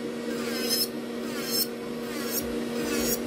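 A high-pitched electric nail file sanding nails whirs steadily, with a soft rasping grind that swells in short regular passes, close and fairly quiet.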